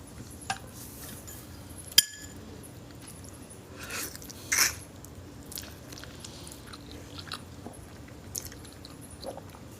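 Quiet, close chewing and biting of crunchy crock-pot slow-cooked oxtail, with sporadic crunches, a sharp clink of cutlery or glass, and soft mouth sounds spread over several seconds without talk.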